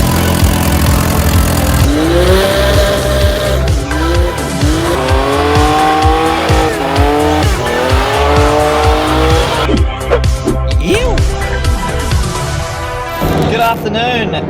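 A drift ute revs hard as its tires squeal in long wavering screeches, loud and close, with engine roar swelling and dropping before the squeal fades near the end.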